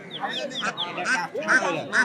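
Domestic ducks at a Kamrangirchar poultry market quack repeatedly nearby in quick, nasal bursts, mixed with people talking close by.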